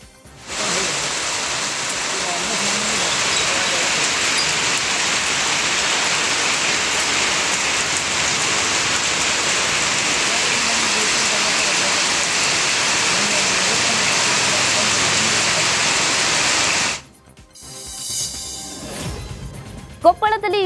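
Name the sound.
light rain drizzle falling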